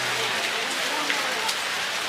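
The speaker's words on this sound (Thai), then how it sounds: "ฝนตกเนี่ยครับ" Rain falls steadily at a hillside temple in Si Racha, Thailand, making a dense, even hiss that fills the scene. It is moderately loud and never breaks.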